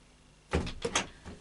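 A house door being opened to let a cat inside, a short burst of handling and latch movement followed by a couple of louder knocks and creaks, close by with no talk.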